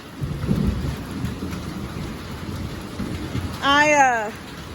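Rain patters steadily while low thunder rumbles near the start, and a short chirp rises briefly near the end.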